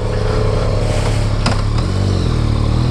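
A Yamaha MT-09 Tracer GT sport touring motorcycle engine runs steadily and loudly up close, with a deep droning rumble and a brief mechanical clack partway through.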